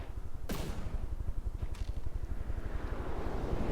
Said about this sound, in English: Nick recently did something with the cannon sounds, and they just sound great now